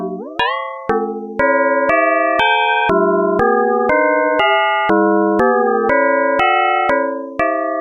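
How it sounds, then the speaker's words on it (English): A sequence of bright, metallic FM-style synthesized bell tones from a Mutable Instruments Braids modular synth oscillator plays one after another at different pitches, each struck note ringing and decaying quickly into the next. "it sounds a little bit like those FM bell tones in some of the classic digital synths"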